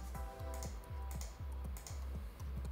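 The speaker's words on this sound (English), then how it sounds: "Press C on the keyboard and then cut all of them." Computer keyboard keys are pressed in a steady series of about ten crisp, close clicks, evenly spaced at roughly three or four per second, with no speech over them.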